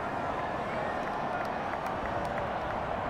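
Stadium crowd in the Madden NFL 23 video game, Dallas Cowboys at Denver Broncos preseason, a dense steady roar of crowd noise with faint scattered claps and cheers throughout, continuous and even, with no clear talk over it.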